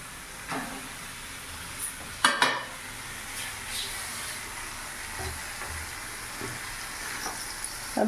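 Boneless chicken is stirred into fried masala in a hot pan, producing a soft continuous sizzle broken by several sharp scraping stirs, one cluster louder than the rest.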